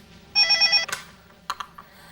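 A telephone rings with a short electronic trill of rapid pulses, followed by a clatter and a couple of soft knocks as it is handled indoors.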